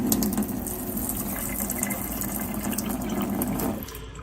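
Water pours in a steady, full rush from the faucet spout of an APEC ROES-50 under-sink reverse osmosis filter system, close by and alone, easing off near the end.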